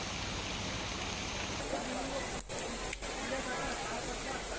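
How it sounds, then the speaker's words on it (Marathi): Steady broadband rushing of the Manudevi waterfall at the foot of the Satpura range near Jalgaon, swollen by monsoon rain, continuous and fairly loud, with two brief dropouts partway through. "सातपुड्याच्या पायथ्याशी असलेला मनुदेवी धबधबा प्रवाहित झालेला आहे"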